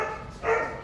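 Dogs barking and yipping at a kennel where 66 sick, neglected dogs and puppies were seized from a puppy mill breeder in Langley, B.C.; a short, fairly close burst of barks swells in the middle, with no talking.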